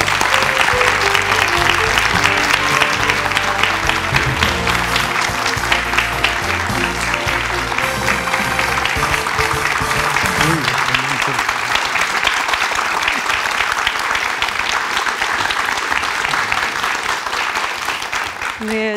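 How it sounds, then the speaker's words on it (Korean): Warm, sustained applause from a large studio audience at a televised debate special, steady clapping throughout with music underneath in the first half. "뜨거운 박수로 맞아주세요"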